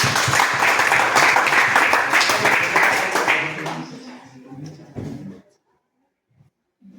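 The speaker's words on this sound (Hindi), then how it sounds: "बजाओ ताली।" Students burst into loud, dense clapping at a school sports quiz, which tapers off after a few seconds to scattered claps and brief murmurs before falling silent.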